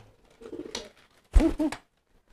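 A trained pet pigeon gives two short, low cooing calls close by, after a few softer murmuring sounds, with quiet between.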